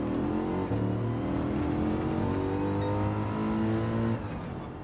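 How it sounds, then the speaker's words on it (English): Exhaust of a car in Gran Turismo 7, revving loudly and steadily with layered engine harmonics climbing and holding, then cutting off near the end, alone without talk. "I'm not sure if the exhaust isn't as loud on the newer ones, but the 2020 models sounded pretty good"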